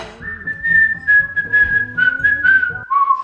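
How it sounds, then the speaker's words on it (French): Someone whistles a wavering tune, sustained notes with slight pitch slides, over faint background clatter, ending on a lower note. "je siffle très mal"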